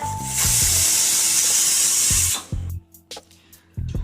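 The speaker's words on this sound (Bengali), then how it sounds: "এবার প্রেসার কুকারের ঢাকনাটা বন্ধ করে হাই ফ্লেমে 2 থেকে 3টে সিটি মেরে নেব।" Pressure cooker on a high gas flame letting off a loud, steady steam hiss for about two seconds, with a few low knocks and clatters after the hiss cuts out.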